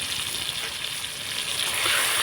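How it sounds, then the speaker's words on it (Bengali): Cumin paste, ginger paste and turmeric fry in hot oil, giving a steady, close, bright sizzle that swells slightly toward the end as the spices are stirred. "এবার আমি মশলাগুলো কষিয়ে নিব মশলাটা নাড়াচাড়া করে সুন্দর করে কষিয়ে নিতে হবে"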